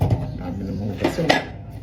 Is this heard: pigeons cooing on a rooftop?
no